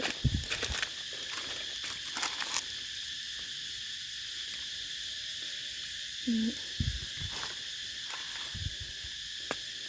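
Cicadas call in a forest with a loud, continuous, high-pitched drone that fills the whole stretch, joined by scattered nearby rustles and footstep-like crunches.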